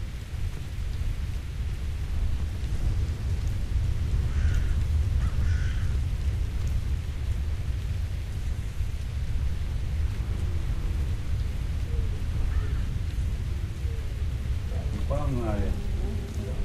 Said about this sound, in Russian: И дождь еще пошел.